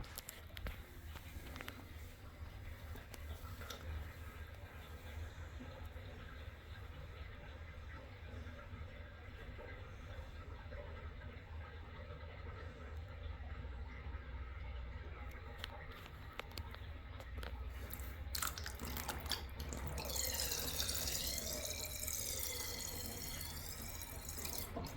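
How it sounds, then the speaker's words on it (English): Water runs and gurgles down a shower drain in a steady wash, growing louder and more swirling toward the end. "Water's sucking like a champ."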